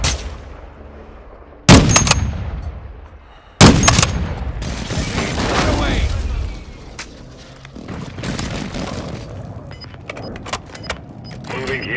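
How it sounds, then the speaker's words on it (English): Airstrike and gunfire in Call of Duty: Modern Warfare II, with two sharp loud blasts followed by rumbling, scattered shots and clatter at middle distance, under brief game voice lines. "Friendly airstrike in the AO."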